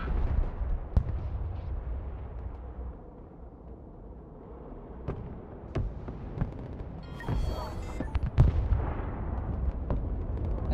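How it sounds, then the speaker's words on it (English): Rocket artillery launching in the modern warfare strategy game Broken Arrow, deep rumbling booms with sharp cracks scattered throughout, a dense burst of launches near the end over continuous low battlefield rumble. "Rocket artillery ready"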